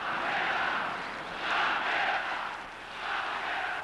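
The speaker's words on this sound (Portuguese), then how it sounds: "A numerada ensaia uma crítica mais forte, gritando o nome do antigo técnico." Football stadium crowd in Brazil chanting a former coach's name, a distant massed roar rising and falling in about three rhythmic waves, steady and far-off.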